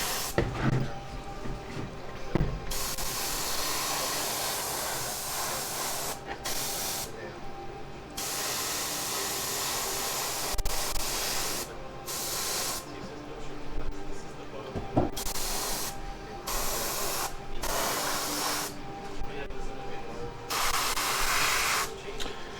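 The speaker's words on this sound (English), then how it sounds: "Sometimes there's only so much you can do with a spray can to prime a model." Aerosol spray can priming a model, bursts of loud hissing spray repeated in several long blasts with brief pauses between, close by.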